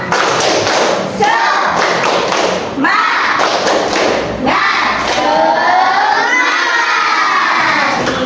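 Schoolchildren in a junior high classroom perform a rhythmic spirit clap chant, with loud repeated thumping claps and shouting voices in unison, close and energetic throughout.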